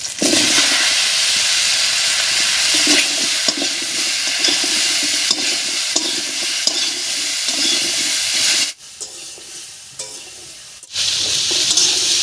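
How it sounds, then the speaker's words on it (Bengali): Bottle gourd pieces fry in leftover fish-frying oil with whole cumin and radhuni, a loud steady sizzle with stirring scrapes that drops off briefly near the end before returning. "মাছ ভাজার এই তেলের মধ্যেই দেব হাফ চামচ গোটা জিরা আর হাফ চামচ মতো রাঁধুনি এর উপরেই দেব কেটে রাখা লাউ"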